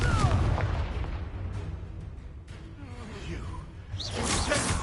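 Confringo spell explosions in Hogwarts Legacy combat, loud booming blasts and whooshing fiery bursts layered with game effects and music, dense and continuous, rising again toward the end.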